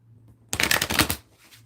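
Tarot cards being shuffled, a single brisk riffle of crisp papery flutters lasting about half a second, close and clear against a quiet background.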